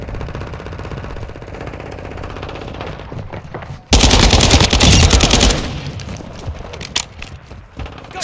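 Loud bursts of automatic gunfire from Call of Duty Modern Warfare 2 Domination on the Shoot House map, with steady shooting and a dense, very loud volley in the middle before tapering into scattered shots.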